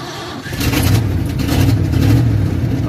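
Engine of a 1993 car revving steadily from inside the cabin during a short drive, a loud continuous low rumble that swells after a quieter start and holds strong throughout.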